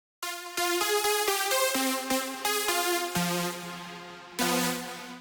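Lead Pyron synth lead preset playing a bright, harmonically rich melody, a string of clipped notes giving way to longer sustained tones, loud and alone.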